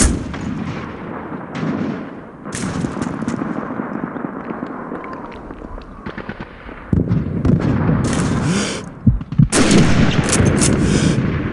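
Gunfire and battlefield noise from the WWII video game Call of Duty 2, with loud, dense rolling blasts and crackling shots throughout, including heavy bursts and a sharp report near the end.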